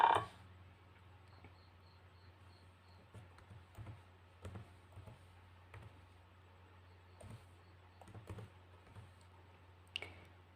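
Keys on a computer keyboard tap out a file name in quiet, irregular clicks and short clusters across about ten seconds, faint over a steady low hum, with no voices.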